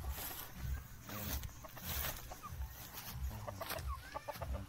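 Pet chickens clucking in a quiet rural yard, repeated short clucks and chirps close by with soft rustling, no talk.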